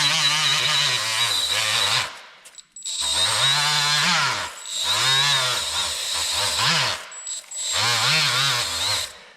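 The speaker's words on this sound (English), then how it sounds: "I'm gonna try cleaning those threads up with me die grinder." A die grinder cleaning up threads screams in several long bursts, its pitch dipping and rising as it bites the metal, with short pauses between bursts, loud and close.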